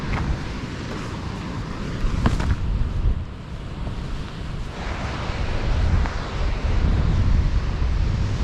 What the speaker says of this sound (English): And those waves, they're incessant. They just keep on coming.